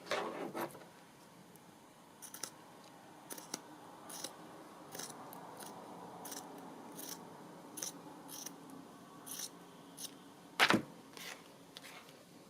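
Scissors snipping through paper in short, crisp cuts, spaced irregularly and close by, ending in one louder, sharper snip near the end, with no talk over it.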